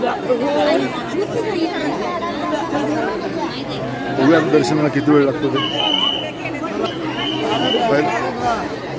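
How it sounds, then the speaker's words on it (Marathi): A large crowd fills the Mahalakshmi temple in Kolhapur with dense, close chatter and babble from all around. One nearby voice speaks over the crowd noise. "आता आपण चाललोय आहे महालक्ष्मीच्या दर्शनाला गर्दी मात्र भरपूर आहे"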